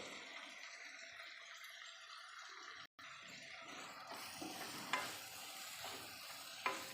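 Spinach, onions, tomatoes and capsicum are stirred in a pan for panchratna dal, with a steady soft sizzle and scraping, a brief dropout near three seconds and a couple of sharp utensil clicks later on.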